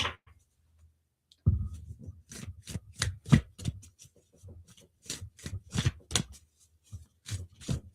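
Tarot cards being shuffled by hand at close range, after a brief silence a run of crisp riffling bursts and soft slaps in an irregular rhythm, with no one talking.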